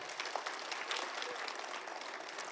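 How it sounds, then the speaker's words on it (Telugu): An audience at a Guru Purnima celebration in Kadthal claps in a steady, crowded patter. The applause sounds distant and fairly faint, with scattered sharper claps standing out. "ఒకసారి గట్టి క్లాప్స్."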